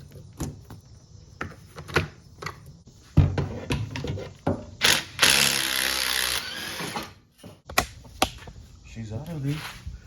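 An impact wrench hammers the upper mount nut of a Beetle coilover in a loud, buzzing burst lasting about a second, set among clanks, clicks and people talking nearby.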